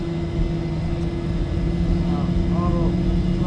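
Boeing 737-800 airliner taking off in the X-Plane 12 flight simulator, a steady, loud engine roar with a constant low drone throughout, overlaid by a faint voice.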